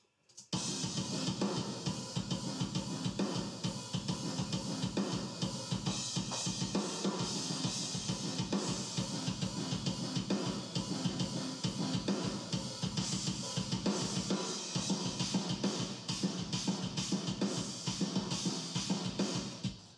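Big, punchy sampled drum kit run through mastering plugins, pounding out a steady driving beat loud and dense for the full stretch, with no voices over it.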